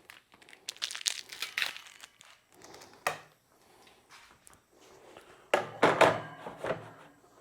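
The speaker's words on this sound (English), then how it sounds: "Take this out of the packaging." One-inch screws come out of plastic packaging with crinkling, tearing bursts and a few small clunks, close and fairly quiet, in irregular bouts with pauses between.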